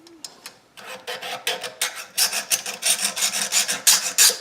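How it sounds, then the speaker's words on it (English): A small hand file rasps burrs off the back edge of a cast metal model ambulance truck during restoration, a fast run of close, rhythmic strokes that builds steadily louder with no talk over it. "I take some burrs off the back edge here with a needle file"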